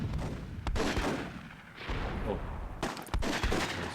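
Cannon blasts and gunfire crackle in a World War II scenario of the Myth II Soulblighter game, loud repeated bursts and booms with sharp transients, and a brief voice exclaims once.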